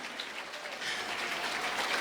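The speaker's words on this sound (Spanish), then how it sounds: "Fuerte aplausos." Loud, sustained applause fills a church, a dense even clatter of many clapping hands that swells slightly toward the end, with no voices standing out.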